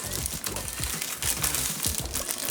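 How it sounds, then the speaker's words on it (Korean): Plastic wrap being peeled back from the top of a yarn skein for crochet, giving a close, continuous crinkling and rustling that runs steadily throughout with small irregular crackles. "이렇게 윗부분만 비닐을 걷어주신 다음에"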